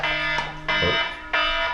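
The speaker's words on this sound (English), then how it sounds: "It's my alarm to wake up." A wake-up alarm goes off indoors, three loud electronic bursts with pauses between them, close to the listener with no talk over them.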